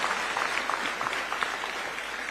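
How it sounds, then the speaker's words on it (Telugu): An audience at a public gathering with Chandrababu Naidu in Singapore claps loudly and steadily, a dense, continuous wash of many hands that holds throughout without speech. "గట్టిగా చప్పట్లు కొట్టి అభినందించండి"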